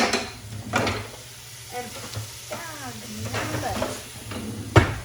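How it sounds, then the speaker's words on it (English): Chili cooking in a pot and stirred with a long-handled spoon, with scraping strokes and a low sizzle throughout, someone talking quietly over it and a sharp clank near the end. "stir till you cook, stirring occasionally until very soft"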